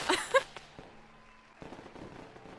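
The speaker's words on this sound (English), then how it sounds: "All of the fireworks and confetti and balloons." Fireworks crackle and pop in a celebration scene of an animated show, a few sharp bursts up front, then a softer rumbling crackle that fades and picks up again, with a faint cheering crowd underneath.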